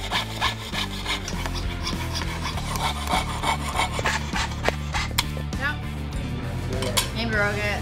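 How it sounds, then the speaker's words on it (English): A jeweler's saw cutting shapes from metal bar stock in a forge workshop, heard as a steady, close rhythm of rasping back-and-forth strokes with metallic squeaks and scrapes, continuing without pause. "once you start sawing, you just wanna go pretty slowly to cut your shapes out"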